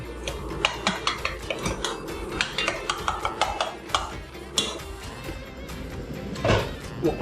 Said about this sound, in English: Give the mince a bit of a stir.